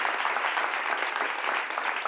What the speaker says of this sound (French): Applaudissements pour Eva, bénie de Dieu.